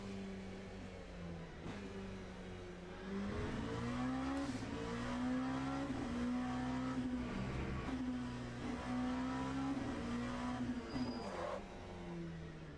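An LMP2 prototype race car in the Le Mans Ultimate sim racing game, played in VR, its engine droning and revving up and down through gear changes with a faint tire squeal, continuous and loud with no talk.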